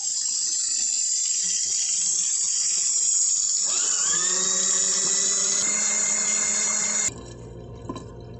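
Small Temu washing machine during its rinse with water running, a loud steady rushing whine that rises in pitch midway, then cuts to a quieter low hum near the end.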